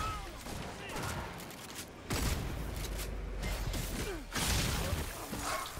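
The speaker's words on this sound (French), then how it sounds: "Il y a un truc laser là, ou un sniper qui nous tire dessus." Sniper fire from a vampire enemy aimed at players in the video game Redfall, sharp bursty shots among game noise, with people talking over it.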